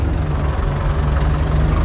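Ursus C-360 tractor engine running steadily while pulling a cultivator in a field, a loud low rumbling drone with a constant throb, heard close and alone without talking.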